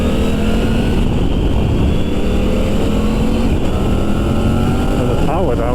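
Triumph Tiger 900 GT Pro adventure motorcycle accelerating hard down a slip road, a loud continuous engine drone with heavy wind buffeting throughout and a rising pitch near the end.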